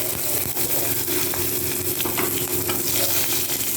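Green chilli and spices fry in hot oil with a steady, dense sizzle and crackle, loud and close, with faint stirring scrapes now and then and no voices.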